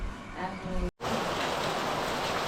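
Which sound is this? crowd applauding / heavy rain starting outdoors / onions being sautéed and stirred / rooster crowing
heavy rain starting outdoors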